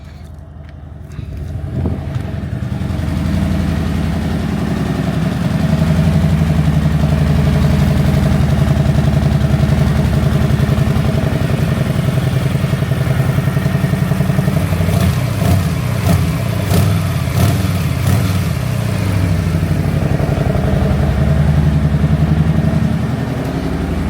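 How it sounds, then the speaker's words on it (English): Harley-Davidson Street Bob motorcycle on standard exhaust pipes, slightly louder than stock from past tinkering, idles steadily and close by with a low, even rumble and slight revving fluctuations, no talking. "you can have a listen to what standard pipes sound like"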